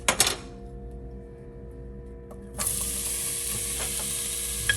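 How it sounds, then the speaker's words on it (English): Chopped onions hit hot Portuguese olive oil in a pot, setting off a steady close sizzle that starts after a few light clinks and swells into a loud continuous hiss. "Hear that little sizzle, nice and hot."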